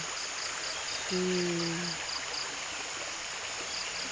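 A stream in Agusan del Sur flows in a steady, even wash, with faint insect chirps over it and a brief tonal call around the middle.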